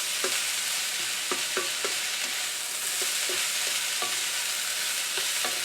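Chicken chow mein stir-fried in a very hot wok, a constant loud sizzle with sharp scraping clinks of a utensil against the metal at irregular moments, no speech.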